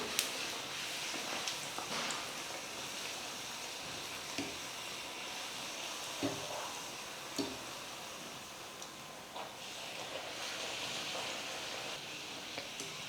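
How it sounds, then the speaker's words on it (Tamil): Potato poori dough frying in hot oil gives off a soft, steady sizzling hiss with occasional faint pops and taps, heard fairly quietly with no talking. "இப்போ தேய்ச்சி வச்சுருக்கிற மாவை எடுத்து எண்ணெயில் போட்டுக்கலாம்."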